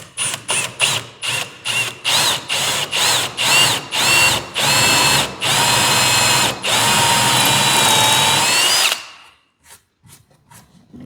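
Power drill driving a fastener into wood while restoring the rotten frame of a 1956 Century boat, loud close bursts of whirring that start short and choppy, then lengthen into sustained runs before stopping, followed by a few faint clicks.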